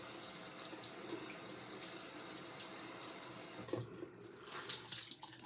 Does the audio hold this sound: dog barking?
no